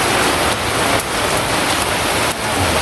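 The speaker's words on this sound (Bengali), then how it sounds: "বাড়ি শেষ হতে না হতেই প্রচণ্ড এই যে ঝড়ি বৃষ্টি।" Heavy village rainstorm pouring down loudly and steadily on surfaces nearby, a dense unbroken roar of rain with slight surges in intensity and no voices.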